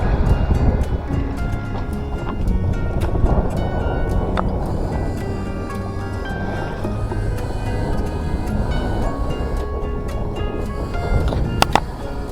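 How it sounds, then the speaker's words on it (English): Small bow wave washing steadily against a sailing boat's hull on open sea at about 10 knots, midway between Menorca and Sardinia; a continuous, even rush of water with soft wind noise and no voices. "Sound of a little bow wave now and again."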